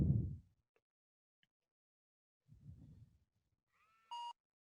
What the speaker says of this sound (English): you'll hear a beep, and then the piece ID will show at the top